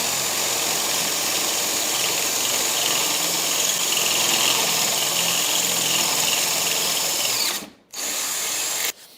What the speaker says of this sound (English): I'm going to have to try and be a little bit careful when I drill this now